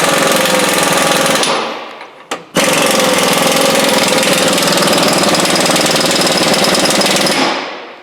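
A Matco 3/4-inch impact wrench hammers loudly and steadily in a shop, with a brief break in the middle before it resumes and runs on.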